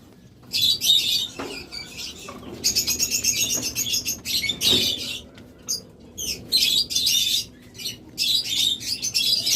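Pet birds at a breeding farm, lovebirds, cockatiels, budgerigars and Australian doves, chatter in dense bursts of high chirps and squawks, with brief lulls and a few wing flutters.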